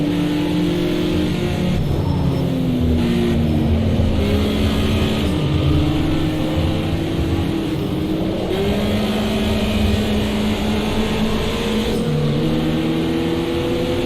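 Turbocharged racing car engine in a driving video game, droning steadily and loudly throughout with rising and falling pitch as it accelerates and shifts gears while climbing a hill.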